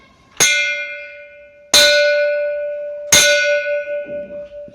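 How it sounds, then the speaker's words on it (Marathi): A bell struck three times at slow, even intervals, each strike ringing out and slowly fading, with nothing else heard. "अचानक त्याला मंद घंटानाद ऐकू आला"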